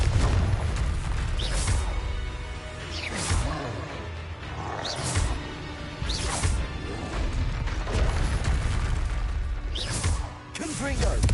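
Repeated Confringo blast spell explosions in Hogwarts Legacy crash out in a regular series of loud bursts amid ongoing combat clatter and creature roars.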